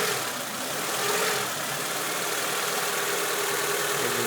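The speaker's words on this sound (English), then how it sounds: "If I ground out the ECU control voltage, engine runs fast." A 1995 Honda Civic engine with a rough idle runs fast at idle while its idle air control valve is tested, a steady close mechanical drone with no voices.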